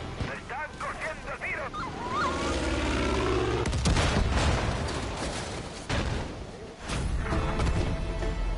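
Bursts of rapid gunfire and booming blasts crackle through a busy, noisy scene in the video game Far Cry 5, loud and sustained for several seconds.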